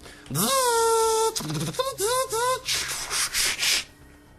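A human voice imitates a robot with gliding, buzzy synthetic tones and short choppy bursts, followed by a series of rhythmic hissing pulses.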